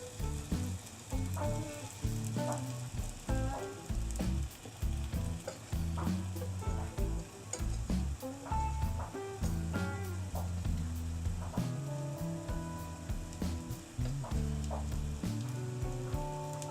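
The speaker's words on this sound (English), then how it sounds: "I'll make a four pancake stack here." Pancake batter sizzles steadily as it fries in oil in a pan, a dense continuous crackle with occasional clinks and scrapes layered on top, close and fairly loud, without any talking.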